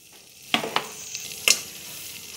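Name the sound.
butter melting and sizzling in a pan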